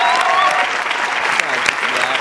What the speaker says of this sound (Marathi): जोरदार टाळ्या झाल्याच पाहिजेत